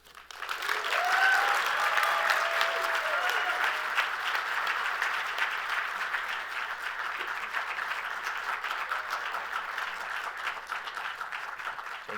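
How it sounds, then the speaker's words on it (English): An audience at an awards breakfast applauds warmly. The sustained clapping swells quickly, holds steady for about twelve seconds with no voices on top, and fades slightly toward the end. "Please join me in congratulating Dr. Accordino on being one of this year's in"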